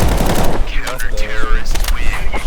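Gunfire from Counter-Strike 2 on the Dust 2 map during a competitive match, heard as a burst of loud shots near the start with game sounds after it.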